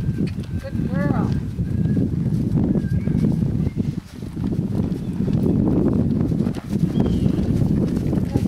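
Horse cantering in an arena, hooves striking in a fairly steady rhythm at close range for most of the stretch, with a brief lull partway through; a rider talks over the hoofbeats.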